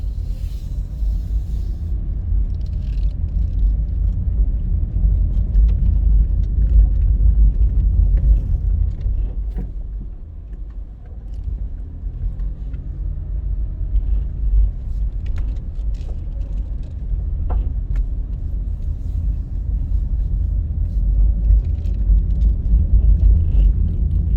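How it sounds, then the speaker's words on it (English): A car drives slowly around the University of Technology campus in Papine, a steady low engine and road rumble filling the cabin throughout, easing briefly midway before resuming; no talking. "just a quick drive on the campus of the University of Technology"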